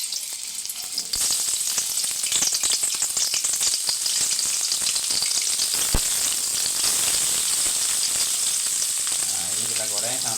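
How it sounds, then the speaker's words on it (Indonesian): Cigor cassava fritters sizzle steadily in hot oil, a loud continuous crackling fry heard close up with no talking over it. "kita panaskan minyak dan kita goreng si cigornya"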